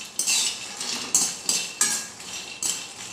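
Almonds and cashews dry-roast in a pan over a low to medium flame, stirred in several sharp metallic scrapes and clinks spaced through the clip, fairly close, with no voices.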